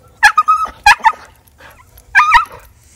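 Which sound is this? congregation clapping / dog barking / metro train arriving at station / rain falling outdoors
dog barking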